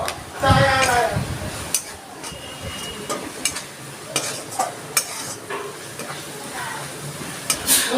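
Chilli, coriander and cumin masala fries in oil while a spoon scrapes and stirs it around the pan, giving a steady sizzle broken by repeated clinks and scrapes, close by, with a voice talking at times.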